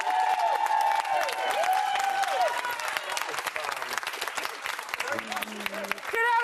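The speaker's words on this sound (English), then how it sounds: "give yourselves a round of applause" A studio audience at a Big Brother UK spin-off show claps and cheers in a steady, lively burst, with some voices mixed in and brief tonal music stings over the crowd.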